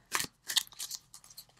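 A card slides out of an Animal Wisdom oracle deck, a few quick, close, crisp snaps and rustles of stiff cardstock in short bursts against a quiet room.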